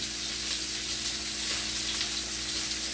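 Beef filet and cod loin searing in a hot pan: a dense, even, close-up hiss with a faint low hum underneath, holding steady throughout with no talk.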